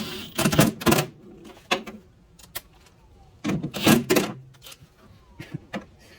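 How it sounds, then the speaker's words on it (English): An impact wrench with a driver bit loosens a bolt on a Nissan Frontier tailgate during a latch repair. It fires in several short, loud, rattling bursts up close, separated by brief pauses, with no talking. "Once again, I got the driver on the impact wrench here."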